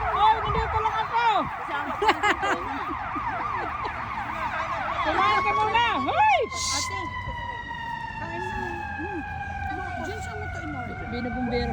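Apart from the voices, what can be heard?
fire truck siren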